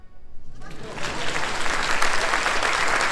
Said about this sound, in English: Now right there you can clap.